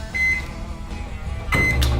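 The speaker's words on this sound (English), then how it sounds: "Set the microwave to 40 seconds" Low humming drone of a microwave oven running, with a short tonal beep near the start and a louder clunk toward the end.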